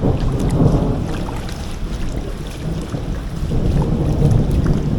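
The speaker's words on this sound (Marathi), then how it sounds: "बघू शकता पाऊस पण पडतोय खूप" Steady heavy rain outside a temple with a dense broadband rush, loud and constant throughout, with a low rumbling undertone.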